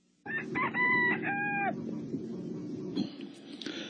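A rooster crows loudly and close by, a long rising and falling call lasting over a second, followed by a rougher clucking and squawking noise from the same bird.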